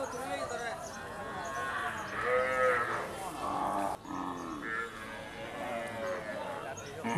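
Village cattle and calves at a busy cattle market low loudly with long, drawn-out moos close by, while people talk and the crowd murmurs in the background.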